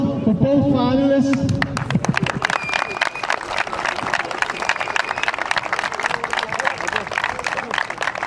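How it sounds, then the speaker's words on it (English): A crowd at the World in One City tournament final, Nigeria versus West Indies, bursts into dense, rapid applause for both finalists after a brief spoken voice, with the clapping running steadily to the end. "Can we please have a round of applause for both finalists?"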